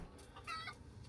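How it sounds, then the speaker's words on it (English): Chickens cluck in a farmyard in the video game Resident Evil Village, a few close, fairly soft bursts of clucking over a low, steady background hum. "Why are these chickens still alive?"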